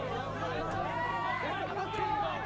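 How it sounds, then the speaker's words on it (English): Restless crowd chatter at a boys high school soccer game, a steady, fairly faint hubbub of many voices carrying throughout. "Crowd getting a little restless now."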